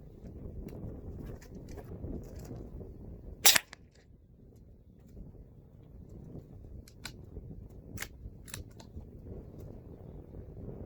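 A single sharp .22 rifle shot cracks once at a paper target, loud and close, followed by faint clicks and small outdoor ambience.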